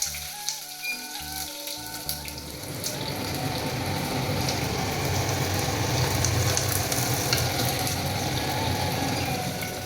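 A home kitchen chimney exhaust hood runs at full power, its steady whooshing roar swelling up after a brief quiet start and holding loud and close throughout, with no talking.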